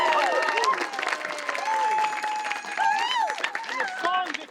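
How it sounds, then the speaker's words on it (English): Audience applause and cheering for a theatre band at a summer outdoor Shakespeare production, a steady wash of clapping with voices and whoops mixed in throughout. "big round of applause for our band."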